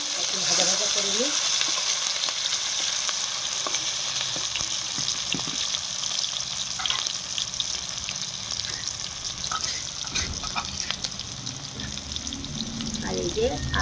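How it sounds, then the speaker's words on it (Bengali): Onions and tomato fry in oil in a pan on a clay wood-fired stove, a steady close sizzle with stirring scrapes throughout, under occasional speech. "আর পেঁয়াজটাকে ভাজা ভাজা করে নিই।"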